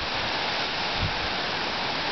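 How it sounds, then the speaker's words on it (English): Hemmed-In Hollow Falls in a wooded hollow gives a steady, full rush of falling water, close and continuous with no voices. "You see the wind blowing the uh, waterfall over to the right."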